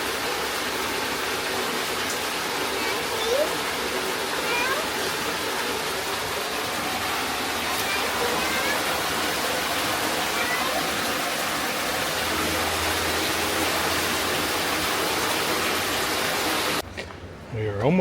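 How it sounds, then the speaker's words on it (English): A hidden waterfall on a hike, out of sight, sends a steady broadband roar of rushing water that fills the whole stretch without a break, then cuts off abruptly at the end. "hear a waterfall, but you can't see it."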